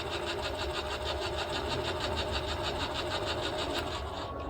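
An electric trailer jack motor runs steadily while lowering the jack, a close, continuous mechanical whirring with a fast regular pulsing throughout.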